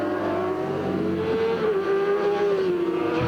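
Racing motorcycles at the Bathurst circuit in 1994 roar past with a loud, sustained engine whine whose pitch shifts as they accelerate and pass.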